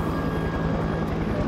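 Helicopter in the horror video game They Are Here: Alien Abduction Horror, a steady low rotor drone with a rhythmic thumping pulse, continuous and fairly loud throughout with no talk.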